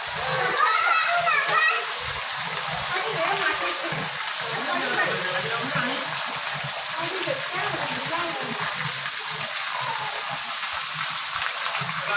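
First monsoon rain in Gujarat splashing and pattering steadily while children play in the water, with a splashy burst early on and kids and an adult talking throughout.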